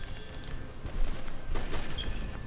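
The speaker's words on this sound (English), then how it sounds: "Come on, let's shoot him." Shots ring out in a PS4 game shootout, a series of muffled bursts and booms over a rumbling background, growing louder toward the end.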